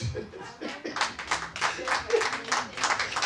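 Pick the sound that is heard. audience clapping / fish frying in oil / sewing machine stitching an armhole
audience clapping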